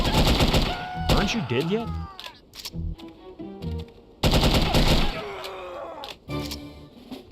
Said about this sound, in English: noises of automatic gunfire, explosions, multiple screams, and agony